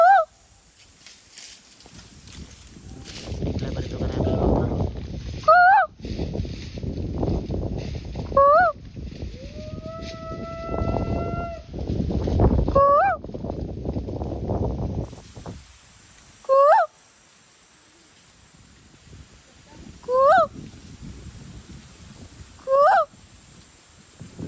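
Hand-blown imitation of a kuhu bird call, a series of short rising whistle-like hoots repeated about nine times, loud and close, with people talking between the calls.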